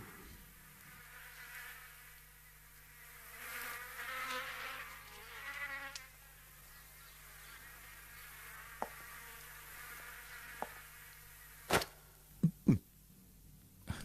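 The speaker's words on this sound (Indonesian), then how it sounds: "Nyamuk" A mosquito whines with a thin, steady buzz that drifts in and out over a low background hum, followed near the end by a few sharp clicks and thuds.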